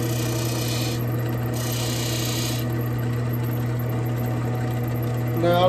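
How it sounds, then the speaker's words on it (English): Sandpaper rubs back and forth against the wooden barrel of a handmade duck call, giving a steady, close scraping hiss in short passes, with a low hum running underneath. "first I got to sand it"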